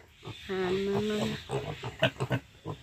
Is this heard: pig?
yes